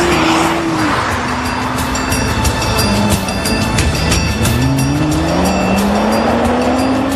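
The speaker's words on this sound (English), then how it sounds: "As soon as the customer takes receipt of the car, they can drive it on a race circuit." Nissan GT-R sports cars roar around a race track, engines rising and falling in pitch as they pass with tire squeal, loud and continuous throughout without talk.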